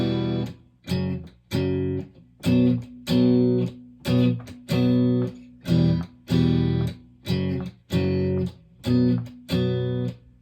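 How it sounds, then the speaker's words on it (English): Electric guitar playing a verse of a song with distorted power chords: a steady rhythm of about a dozen chunky strummed chord hits, some short and some held, close and loud with no talking. "Here's the verse with power chords."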